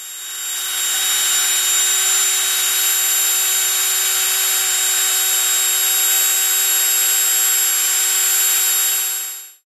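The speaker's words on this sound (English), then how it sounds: "I had to ream this hole out right there with a rat tail file on a drill." A power drill spinning a rat-tail file to ream out a hole runs steadily at high speed with a constant whine, close and loud, then winds down and stops at the end.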